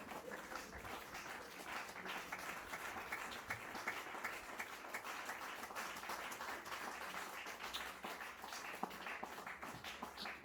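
A church congregation applauds in acclamation, a steady, moderately faint patter of many hands clapping that continues evenly throughout.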